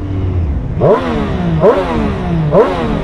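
A Triumph Street Triple 765 R motorcycle engine revs three times in a regular rhythm, each rise sharp and loud, with a booming, echoing quality off a nearby wall.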